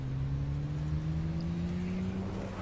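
A car driven in the video game State of Decay hums along with a steady engine drone that climbs slowly in pitch, constant and moderately loud with no talking.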